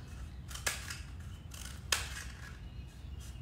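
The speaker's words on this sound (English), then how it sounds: "Cardboard is a little harder to cut with, so it might be a little difficult, but they can at least try. So you're going to cut all the way around" Scissors cut through cardboard in two crisp, distinct snips about a second apart, with a soft steady background hum and nobody talking.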